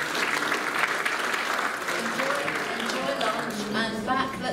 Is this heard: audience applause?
yes